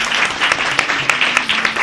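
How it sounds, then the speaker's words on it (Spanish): Short burst of audience applause for teams at a school radio seminar event, even, continuous clapping of moderate loudness with a few sharper claps standing out. "Un fuerte aplauso para ellos."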